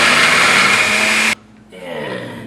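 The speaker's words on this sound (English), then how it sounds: "into the blender go some shallots" A blender chops shallots for a rendang paste, a loud steady whirring roar that cuts off abruptly partway through, leaving quieter rattling and settling noise afterward.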